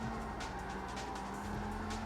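A car drifts in CarX Street with a steady engine drone and hissing tire squeal as the throttle eases through a transition, continuous and fairly close.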